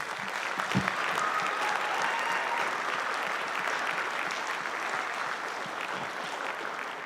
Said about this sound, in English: Give them one more round of applause for that.